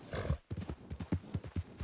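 Steady, rhythmic clip-clopping of horse hooves at a walking pace in Red Dead Redemption 2, dry and game-like, repeating evenly throughout with a faint ambient bed.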